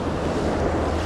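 Waves splash steadily against shoreline rocks beside a perch fishing spot, a continuous close wash of surf mixed with wind noise and no talk.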